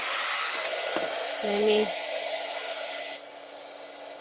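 A hair dryer blows on freshly painted mason jar fall decor, a steady close whir that shifts pitch briefly and then drops in intensity, with a short spoken remark over it.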